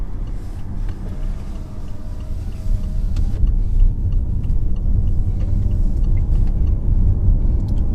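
A BMW i8 plug-in hybrid drives along a road, its synthetic engine note piped through the speakers blending into a steady low rumble of tyres and drivetrain, with no voices.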